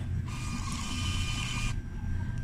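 Receipt printer at a small shop counter running for over a second, a close, steady mechanical whirring buzz that starts and stops abruptly over a low background hum.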